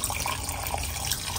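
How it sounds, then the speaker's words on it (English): A forceful stream of water sprays steadily onto toilet paper in a test of RV toilet paper breaking down, a close, continuous hissing wash with no talking. "Try to get this force of water to break up the toilet paper as best we can"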